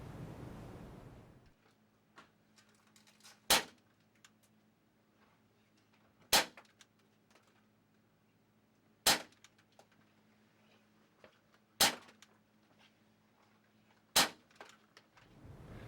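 Five sharp, evenly spaced cracks from an ASG CZ-75D Compact airsoft pistol firing at an outdoor range, each about three seconds apart, with a quiet background between shots.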